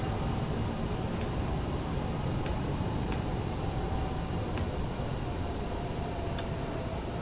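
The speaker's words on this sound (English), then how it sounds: "I'm going to start taxiing towards runway 23." Aerosoft CRJ jet taxiing in Microsoft Flight Simulator, with a steady loud broadband engine roar and rumble throughout and faint periodic clicks over it, no talk.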